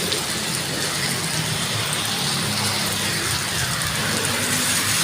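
Heavy storm rain pours down steadily, heard while riding a bike along a highway, a dense unbroken hiss with no voices.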